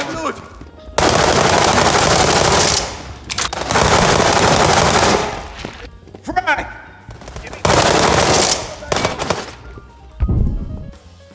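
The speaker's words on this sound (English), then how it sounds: "But the guns don't sound good at all." Loud bursts of automatic gunfire from the video game World War 3, sustained volleys of several seconds each broken by brief pauses and scattered single shots, close and dominating.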